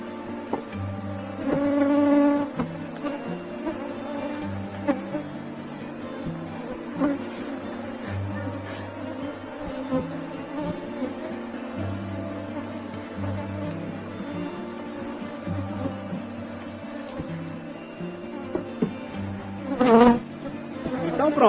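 Honey bee swarm buzzing around the hive frames during a colony split: a steady, close, droning hum throughout, with a few louder swells as bees pass near and faint handling noises.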